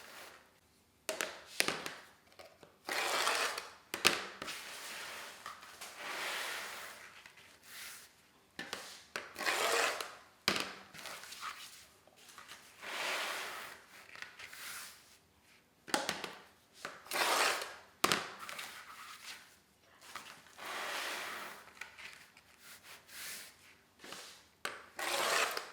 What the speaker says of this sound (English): I'm going to cut 18 pieces.